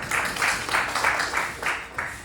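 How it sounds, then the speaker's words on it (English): An audience at a developer community event gives a round of applause, heard as several soft, rhythmic bursts of clapping at a moderate distance, fairly quiet and without speech. "A round of applause for him."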